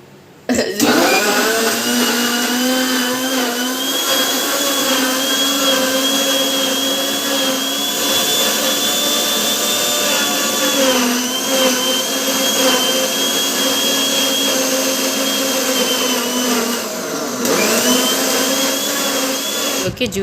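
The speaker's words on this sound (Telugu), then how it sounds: "సో దీన్ని అయితే మిక్సీ పట్టేసుకోవాలి" A mixer grinder whirs loudly as it blends banana milkshake, a steady high-pitched motor whine held for about twenty seconds with slight pitch dips as the load shifts.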